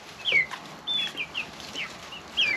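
Chickens cluck and squawk in their new coop, a series of short, close calls coming in uneven bursts with brief pauses between.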